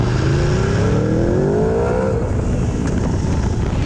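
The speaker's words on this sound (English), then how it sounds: "it's just the wail of the engine" A 2016 Aprilia Tuono V4 1100 Factory motorcycle engine revs hard and close, its whine climbing in pitch for about two seconds before settling into a steady, throaty roar.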